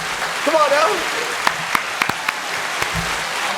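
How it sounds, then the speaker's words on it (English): A small group gives a short burst of clapping mixed with scattered claps and lively voices, ending in a few isolated hand claps. "Let's give a round of applause,"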